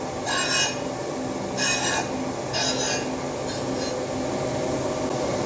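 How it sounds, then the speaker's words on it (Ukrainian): Sanding an exhaust manifold in repeated bursts, four rasping metal strokes with short pauses between, loud and close over a steady background hum. "потихеньку і шліфуємо."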